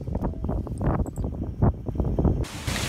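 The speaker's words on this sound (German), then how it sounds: "wir haben richtig Wind zwischen 15 und 20 Knoten" Wind of 15 to 20 knots rushing over a sailing yacht at sea off southern Spain, a loud, gusty roar buffeting the microphone continuously, with a sharper hiss near the end.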